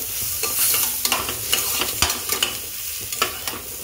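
Chopped ginger, garlic and onion frying for Mumbai-style pav bhaji, a loud close sizzle broken by repeated spoon scrapes and knocks against the pan as it is stirred.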